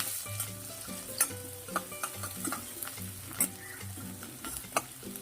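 Cumin, chopped onion and green chillies sautéing in hot oil for poha, a steady sizzle with repeated scraping stirs of a spoon against the pan, close and fairly soft, no talking.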